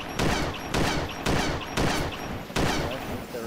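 Five loud gunshots fired in a steady rhythm at a helicopter tail rotor in DayZ, each a sharp crack with a brief rumbling tail, spaced about half a second apart.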